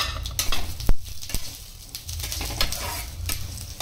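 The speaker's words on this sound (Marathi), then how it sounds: "त्यामध्येच आपण मिरच्या आणि आपला जो मसाला होता खडा मसाला आपण त्याच्यामध्ये भाजून घेणार" Whole spices and chillies dry-roasting in a pan, giving a steady dry sizzle and rustle with scraping stirs and a few sharp clinks of a spoon against the pan, close and moderately loud without speech.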